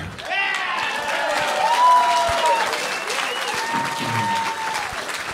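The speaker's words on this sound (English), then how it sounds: "Make some noise for Mike Ryan, everybody." Steady applause from a large comedy show audience fills the whole stretch, dense and fairly loud, with a few whistles and cheers rising above the clapping.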